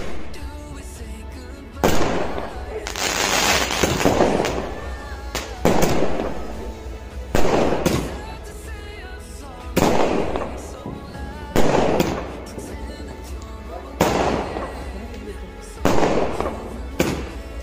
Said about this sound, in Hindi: तो चलिए अभी जेम्बेजिया 30 मल्टी कलर शॉट्स को टेस्ट करके देखते हैं।